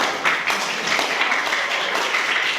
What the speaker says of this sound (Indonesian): aplaus buat Anda semua